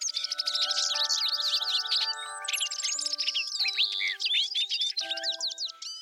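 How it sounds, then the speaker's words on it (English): Bright, busy birdsong with quick chirps and trills over soft sustained chime-like tones, lively and continuous. "listening to the singing of the birds that welcomed her"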